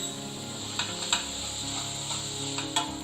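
A small tomato frying in oil for a Tamil chicken gravy gives a steady, fairly quiet sizzle with a few faint stirring clicks, heard alone.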